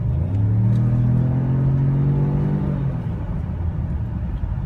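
A 2015 Ford Edge Sport turbocharged EcoBoost SUV engine revs up steadily, a smooth rising drone with a deep rumble, close and loud, easing off near the end.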